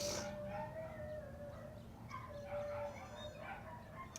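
Dogs howl in long drawn-out tones outdoors on a morning, the wavering cries carrying over steady background noise with no talking.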